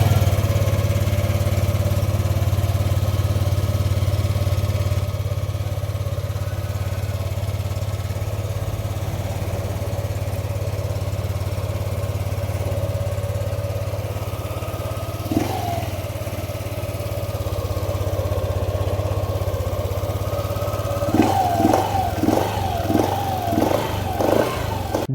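A Yamaha Aerox 155 V1 scooter, recently given new coolant and a repaired hose, idles steadily and close for a long stretch, with a low hum. A few sharp revs come near the end.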